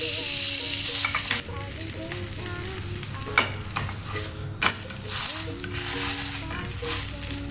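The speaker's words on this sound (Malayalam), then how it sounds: "ഇനി ചപ്പാത്തിയൊക്കെ ചുടുന്ന പോലെ 2 സൈഡും ഒന്ന് മൂപ്പിച്ചെടുക്കുക." A roti toasts in a pan over a medium flame, browned on both sides, giving a steady close sizzle with occasional soft clicks and scrapes as it is turned.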